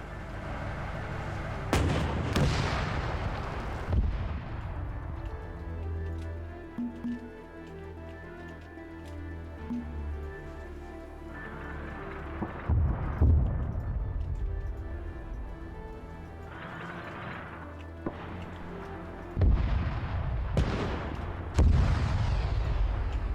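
Heavy gunfire from a vehicle during a 1948 Israeli–Arab combat video game mission, with booming, explosive bursts that recur irregularly over a dense, sustained roar of battle.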